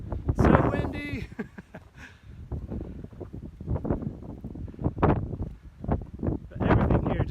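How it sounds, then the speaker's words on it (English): Strong gusts of wind buffet the microphone at hilltop castle ruins in Lacoste, with bursts of rumbling wind noise coming and going while a person speaks throughout. "I'm sorry, it's so windy."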